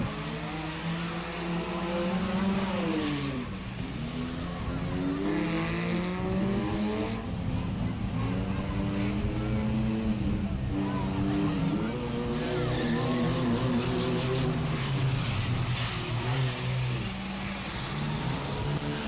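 Several engines roar and rev continuously as minivans and other vehicles race around a dirt track in a skid race, with shifting pitch as they accelerate and pass; the leading minivan trails smoke.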